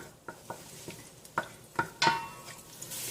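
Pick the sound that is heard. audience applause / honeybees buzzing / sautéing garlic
sautéing garlic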